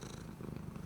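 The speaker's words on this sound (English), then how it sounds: "I don't know if you can hear him purring." Pet cat Toulouse purring up close, a soft, continuous low rumble with a gentle pulsing rhythm, heard alone without talk.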